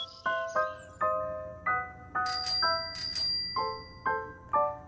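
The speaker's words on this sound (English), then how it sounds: "Bell." A bright bicycle bell rings about a dozen times, clear ringing chimes spaced roughly every half second, near and alone.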